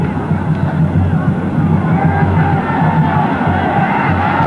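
A Corinthians crowd at a 2005 Copa do Brasil match against Sampaio Corrêa, a loud, continuous roar of chanting and yelling fans filling the stadium.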